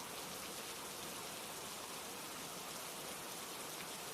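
Steady, dense rainfall, a constant even hiss of drops with no breaks or other sounds, moderately loud and enveloping.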